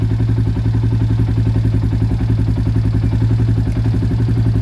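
A Yamaha Sniper 150 motorcycle engine idles steadily up close during a regulator and wiring check, a continuous even mechanical thrum with rapid clattering pulses and no talk.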